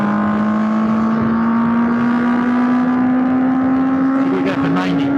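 A 1979 Honda CB750F motorcycle engine accelerates in one steady, loud, close pull, its drone rising slowly in pitch with wind rush behind it.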